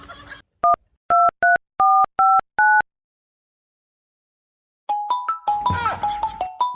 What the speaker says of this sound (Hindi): ये देख फोन आया कि नहीं आया?